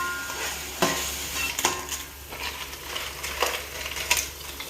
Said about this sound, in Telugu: అల్లం వెల్లుల్లి పేస్ట్ కూడా వేసుకొని మనం ఒకసారి అన్నిటినీ మిక్స్ చేసి తిప్పుదాము. అన్నీ కలిపి వేగాలి.